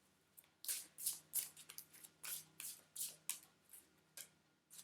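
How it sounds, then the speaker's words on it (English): A deck of oracle cards being shuffled by hand, a run of quick papery riffles and flicks in short irregular bursts, close and crisp with no talking. "Oh, I want to shuffle them like this."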